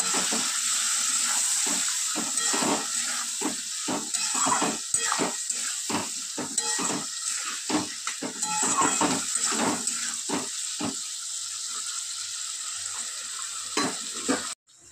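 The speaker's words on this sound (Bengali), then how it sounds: "এবার লাউটা দিয়ে একটু কষিয়ে নেব।" Bottle gourd stir-fried in a pan, a loud close sizzle broken by rapid, repeated stirring scrapes of spatula on metal for most of the stretch, fading to near silence at the end.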